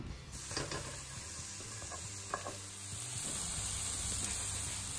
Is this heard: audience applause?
no